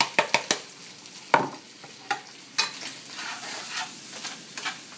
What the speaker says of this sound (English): we are going to keep cooking this now until all the vegetables get nice and soft